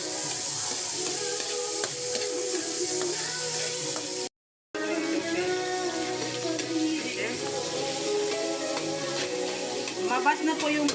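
Fried rice sizzles and crackles steadily in a pan as it cooks, loud and close throughout, with a brief gap partway through.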